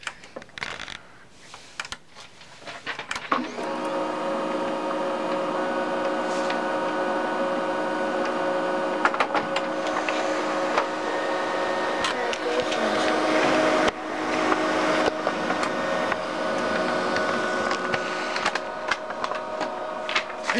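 An HP LaserJet 1100 laser printer running off test pages: after a couple of quiet seconds it starts a steady, close mechanical whir with a constant hum and light clicking paper feed that carries on unbroken.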